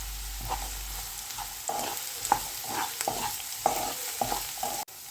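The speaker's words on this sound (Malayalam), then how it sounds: "ഇനി ഇതിലേക്ക് ഇത്തിരി ഉപ്പുകൂടി ഇട്ട് കൊടുത്ത് സവാള ഒന്ന് വഴറ്റിയെടുക്കുക." Sliced onion sautés in oil with mustard and garlic for a Kerala-style potato fry, a soft continuous sizzle broken by clattering spatula stirs at irregular intervals and one sharp knock at the end.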